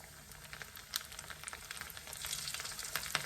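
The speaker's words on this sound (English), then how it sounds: "I'll allow one side to fry nice and golden brown, which doesn't take very long" Flour-coated snapper pieces frying in hot oil for a Guyanese snapper curry, a dense close sizzle with crackling pops that grows busier toward the end.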